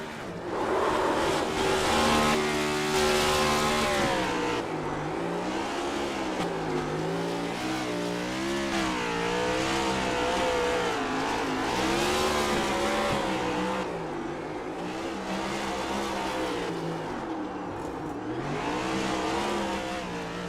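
Race car engine roars continuously through a victory-lap burnout at World Wide Technology Raceway, revs rising and falling with screeching tire squeal, loud and close for the whole stretch with a steady wash of noise beneath.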